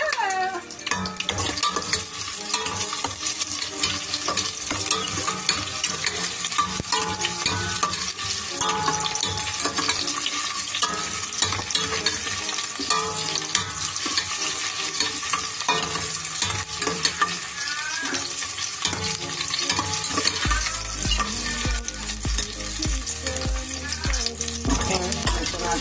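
Garlic fries and browns in a pan as the base for beef mechado, a dense, steady sizzle that runs loud and unbroken throughout, with faint scraping of stirring and no talk.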